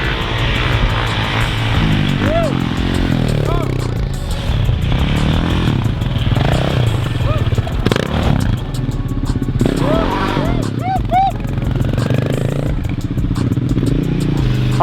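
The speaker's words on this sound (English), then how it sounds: "Oh, I see this pit bike getting stuck." A small pit bike engine revs hard and continuously while the bike is stuck in deep snow, its loud buzzing pitch rising and falling through repeated throttle bursts, with voices mixed in underneath.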